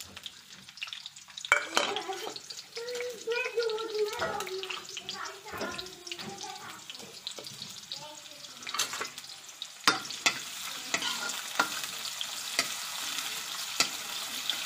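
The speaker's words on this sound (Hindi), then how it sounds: "प्याज को हम सेलो फ्राई होने देंगे।" Onions shallow frying in a pan with cumin powder, fennel and mustard seeds, giving a soft steady sizzle and crackle with occasional stirring clatter, fairly quiet and close, while a voice speaks over it.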